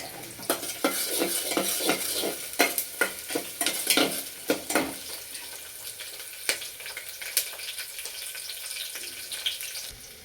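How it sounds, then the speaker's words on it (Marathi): Spices and ingredients for masala rice frying in oil, a run of clinking stirs and scrapes against the pot over a soft sizzle, busy at first and then thinning to occasional taps, close up. "आता आपल्याला हे सगळे मटेरियल तेलामध्ये टाकून द्यायचे एक एक करून. म्हणजे छान असं आपलं हे सगळं मग परतून निघतंय."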